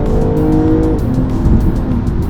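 A 2022 BMW M240i xDrive accelerates hard, its engine and exhaust droning loud and steady from close inside the car, with a rising tone partway through.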